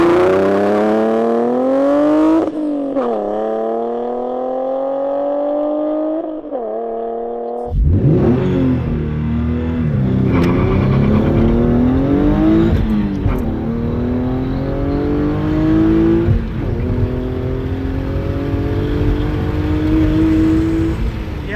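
A car engine revs up, then launches hard, climbing through the gears with rising roars and shift breaks, loud and close throughout.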